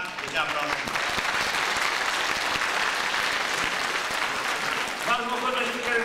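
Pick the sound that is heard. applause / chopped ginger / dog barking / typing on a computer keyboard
applause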